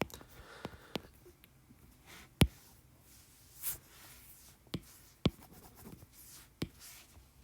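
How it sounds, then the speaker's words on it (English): Pen strokes on a page while notes are written, quiet scratchy marks broken by several sharp taps and clicks spread unevenly across the stretch, with no talking. "So I'm going to write that down."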